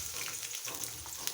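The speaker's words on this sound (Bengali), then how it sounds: "এখানে দিয়ে দিছি তেল, দিয়ে দেব পেঁয়াজ কুচি" Chopped onions frying in hot oil for a spicy prawn bhuna give a steady, close, dense sizzle that holds evenly through the short moment.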